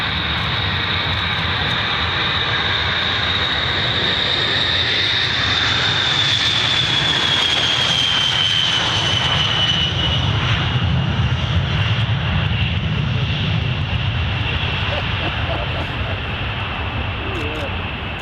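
Military aircraft engines at RAF Fairford during takeoff, a loud continuous roar with a high whine slowly falling in pitch as the plane lifts off, with people talking underneath.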